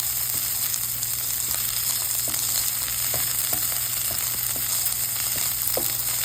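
Fresh sweet corn frying dry in a pan, a constant sizzling hiss broken by scattered sharp pops and crackles with the occasional scrape of stirring.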